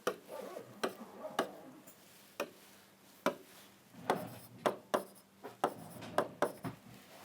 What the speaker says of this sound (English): let's write capital A here.